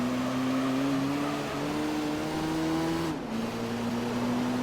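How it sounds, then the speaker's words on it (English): A car engine in the Gran Turismo 3 racing game holds high revs near the limiter, a steady loud buzzing drone. The pitch shifts slightly partway through. "heading down the hill once again as I hit the rev limiter"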